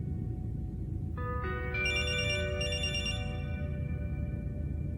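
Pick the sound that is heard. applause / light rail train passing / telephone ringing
telephone ringing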